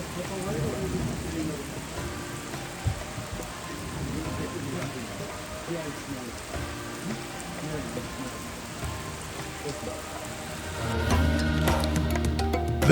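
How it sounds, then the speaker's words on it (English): Rain falls steadily in the Congo rainforest, a dense, even hiss of drops on foliage, swelling louder near the end. "the rain started to fall."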